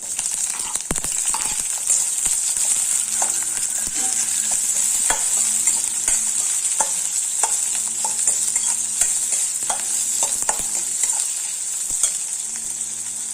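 Sliced onion frying in a pan for a quick tiffin box recipe, with a bright steady sizzle throughout and repeated sharp metallic scrapes and clinks of a spoon stirring against the pan, close and loud.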